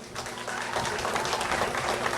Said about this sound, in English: let us give a round of applause to Naparima Girls